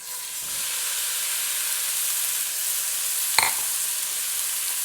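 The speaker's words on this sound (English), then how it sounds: "See that sizzling? That means the oil's ready." A steady hiss of ground meat sizzling in hot oil in a pan, continuous and close, with a brief clink partway through.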